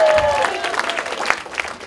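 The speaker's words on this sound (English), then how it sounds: "yourselves a round of applause" A crowd applauds steadily at a comedy hall of fame reveal, many hands clapping in a dense, continuous patter that fills the whole stretch.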